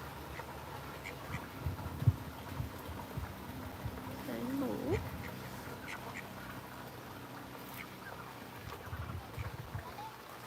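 Ducks quack at a resort, a few bursts of calls rising over a steady background of water and ambient noise, with voices talking nearby.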